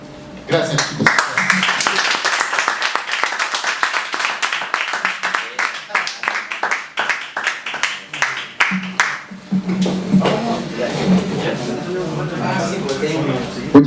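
An audience claps after a reading at a writers' and creators' event, with steady applause that builds and runs for about nine seconds before a voice takes over the room.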